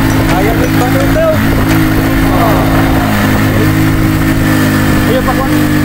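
A motorcycle engine runs steadily at a campsite trail beside pine trees, a loud continuous drone with harmonic hum throughout, while people talk over it.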